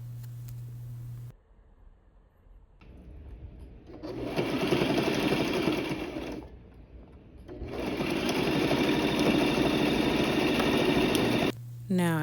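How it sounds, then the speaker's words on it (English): Sewing machine stitching a dress skirt in two long, fast bursts of steady whirring, the second running to the end, with short pauses and brief quieter handling between them. "I'm basically just showing how I'm sewing the skirt"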